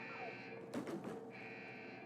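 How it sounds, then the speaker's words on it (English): An alarm in the video game Deus Ex: Human Revolution drones as a steady, buzzing electronic tone throughout, briefly overlapped midway by a louder burst of noise and a voice. "You're still friends, even though the alarm's going off."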